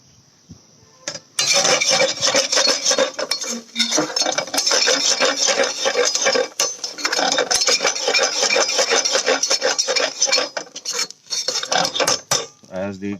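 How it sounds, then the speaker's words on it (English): A utensil scrapes and clatters against a pan as a dried green pea mixture is stirred into grated potatoes for aloo matar tikki, loud close rasping strokes in an irregular rhythm after a quiet start, with brief pauses. "just mix it with the potatoes"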